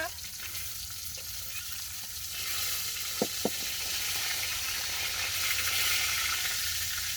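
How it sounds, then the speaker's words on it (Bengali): Fish shallow-frying in a pan sizzles in a steady, loud hiss that swells slightly, broken only by a couple of sharp clicks near the middle, with no talking. "এই যে মাছ ভাজি হালকা করে ভেজা নিচ্ছি"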